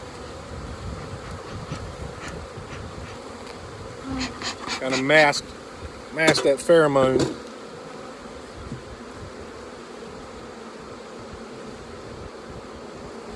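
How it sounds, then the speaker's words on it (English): Defensive honeybees swarming around a large beehive create a dense, continuous buzz throughout. Someone speaks briefly partway through over the droning hum. "The bees just jump on my hands. They're not stinging me, but they're warning me."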